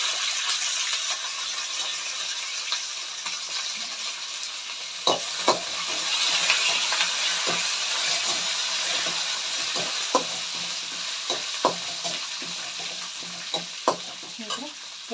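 Curry leaves sizzle and crackle in hot oil in a pan while being stirred for a vegetable palya, a steady loud frying hiss broken by a series of sharp spoon scrapes and clicks, with no talking.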